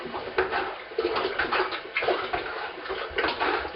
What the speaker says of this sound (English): I just turn on the faucet. So I got it about halfway full.